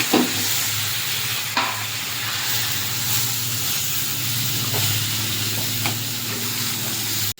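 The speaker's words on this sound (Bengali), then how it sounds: "সিদ্ধ করে রাখা এবার মোচাটা দিয়ে দেবো" Boiled banana flower hits frying chopped tomatoes in a pan for a prawn mocha ghonto, giving a loud, steady sizzle and hiss up close, with occasional stirring scrapes and clacks of a spatula throughout.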